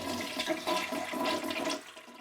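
A toilet flushes in a single sustained rush of swirling water lasting about two seconds, then tapers off abruptly into quiet refill hiss; no voices over it.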